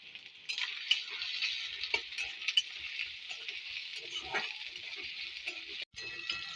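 Chopped onions and green chillies fry in oil in a pan at home, a steady bright sizzle with occasional stirring scrapes and light clinks, close and continuous, with no voices.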